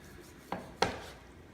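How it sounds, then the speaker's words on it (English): A knife slicing spice-rubbed cooked meat into thin slices, two quick close cutting thuds on a board against quiet room background. "we're just gonna cut it in thin slices"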